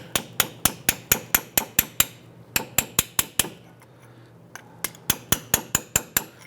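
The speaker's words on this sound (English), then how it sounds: "I'm going to use a sharp chisel here. I'm going to tap around here." Hammer strikes a sharp chisel against a rear ABS tone ring on the axle of a 2005-2010 Chrysler 300, giving sharp metallic taps in quick bursts of six to eight hits with short pauses between them, close and loud.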